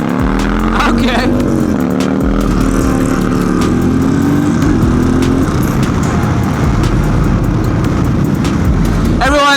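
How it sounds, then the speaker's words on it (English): Harley-Davidson Road Glide motorcycle engine revving hard as the rider tries to pop a wheelie, a loud continuous roar with rising pitch sweeps and a fresh burst at the end, people talking over it. "now he's trying to pop a wheelie on his fucking road glide"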